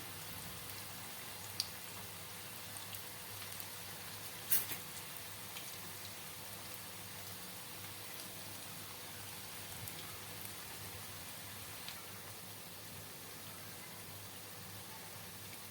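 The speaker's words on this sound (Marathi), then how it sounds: "मी हे बोटं अशा प्रकारे करून थोडंसं सुट्ट करून मग ह्या भज्या सोडते जेणेकरून ते व्यवस्थित क्रिस्पी होतील" Spinach pakoda (palak bhaji) batter dropped into hot oil, giving a soft, steady crackling sizzle throughout, faint and continuous with no voices.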